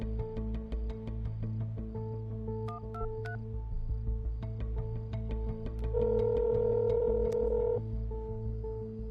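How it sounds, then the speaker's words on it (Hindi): A telephone number being dialed over a loudspeaker, with a string of distinct keypad tones in an irregular rhythm over a steady low hum, then a longer sustained tone near the end. "रुक जाओ, मिला रहा हूं ना पहले।"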